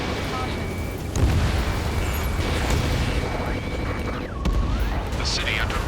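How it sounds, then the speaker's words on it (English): Explosions and gunfire in urban combat Mission 16 of Ace Combat 7: Skies Unknown, flying an Su-57 with a pulse laser, with booming blasts and bursts over a dense rumble, a sweeping jet-like tone near the end. "Gunfire and the roar of jets echoing through the streets."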